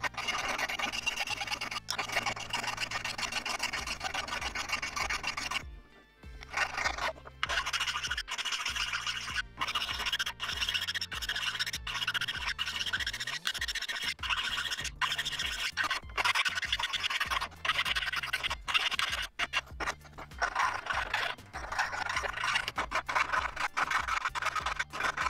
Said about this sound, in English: we can then go about filing the surfaces